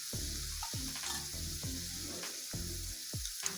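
Shell-on shrimp fry loudly in a hot pan for surf and turf, a steady close sizzle broken by repeated bursts as the pan is stirred or shaken, with no talking.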